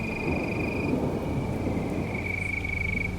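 Steady, dense rain hiss with a low rumbling undertone, constant and enveloping, while a high-pitched insect or frog tone drones through.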